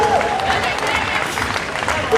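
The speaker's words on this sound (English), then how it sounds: "Give him a round of applause for a new national record." Audience applause at an IPF powerlifting squat competition after a new national record, dense sustained clapping from a crowd filling the hall throughout.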